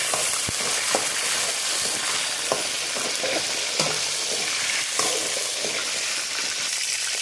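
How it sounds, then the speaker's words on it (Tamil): Eggplant sautéing in hot oil, a loud continuous sizzle and crackle filling the whole stretch, with occasional light taps and scrapes of a spoon, with no talking. "கத்திரிக்காய் இப்படி தாங்க வதங்கணும்"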